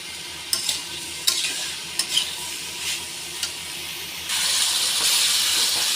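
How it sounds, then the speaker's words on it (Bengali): Bitter gourd and potato fry in a pan with a close, hissing sizzle, punctuated by several scraping stirs, then a louder, fuller sizzle toward the end. "এবার একটু ভাজা হলে উচ্ছে আলু ভাজা আমি লাগিয়ে নেব"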